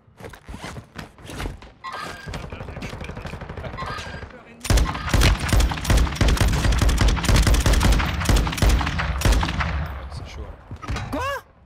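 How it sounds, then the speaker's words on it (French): Gunfire on Ashika Island in the shooter Warzone 2, including sniper shots, with sharp repeated cracks and bursts that grow louder and denser midway, under occasional talk. "Ah, ça me tire dessus au snipe."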